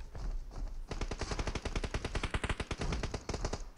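A mech in a video game firing its guns: a fast, evenly spaced stream of heavy shots that starts abruptly and hammers on steadily, loud and alone without talk.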